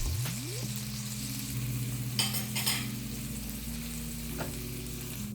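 Tomatoes cook down in oil in a pan for a seafood pasta, a steady sizzle and frying crackle with a couple of brief scraping stirs, while a soft background music tone plays.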